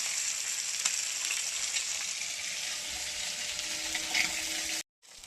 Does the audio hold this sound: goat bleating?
no